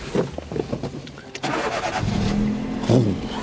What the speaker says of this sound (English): Oh, 3-cylinder engine.